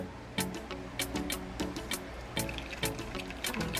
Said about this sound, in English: My tea is finished boiling, and I'm just going to pour.